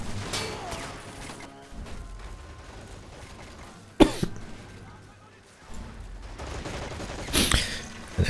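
MG42 machine gun fire in the Men of War: Assault Squad 2 strategy game crackles in rapid bursts amid battle noise, with a commentator talking over the action.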